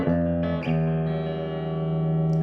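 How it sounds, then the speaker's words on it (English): An electric guitar played through a Roland JC-40 Jazz Chorus amplifier on a clean tone with the bridge pickup, sounding a few sustained ringing chords with smooth decay and no distortion. "Clean tone sounds like this."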